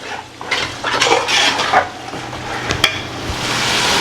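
Chicken biryani is stirred in a cooking pot, a metal spoon scraping and clinking against the pot over a soft sizzle, close and fairly loud, with no talk.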